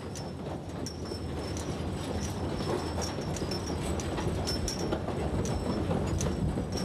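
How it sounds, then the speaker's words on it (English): A small forest railway train, the pong-pong train at Taipingshan among cedar and cypress woods, rolls along with a steady rumble and repeated sharp clicks of wheels over rail joints. "You can take a pong-pong train from Taiping Villa to Maoxing"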